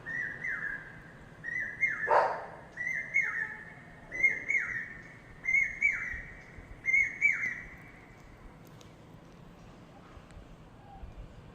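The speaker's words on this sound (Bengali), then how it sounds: "কোনো একটা গাছের ডালে সে বসে বসে ডাকছে" A single bird calls repeatedly from a tree branch, each call a short, bright, whistled phrase, about six of them in a steady rhythm at moderate distance over faint outdoor background.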